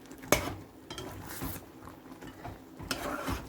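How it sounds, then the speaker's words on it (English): Coconut drops mixture with brown sugar being stirred in a pot, a spoon scraping and clinking against the metal in scattered strokes, one sharp knock early on, close and fairly quiet with no voices. "let's continue with the stirring"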